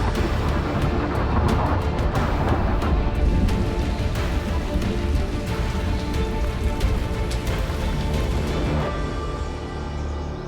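Heavy monsoon rain in Indonesia pours steadily onto surfaces, a dense, loud hiss with scattered sharp drops, easing slightly toward the end.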